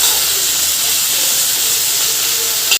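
Mint leaves fry in hot oil in a pan for a bottle gourd chutney, giving a steady, loud hissing sizzle that holds for about three seconds and then cuts off abruptly.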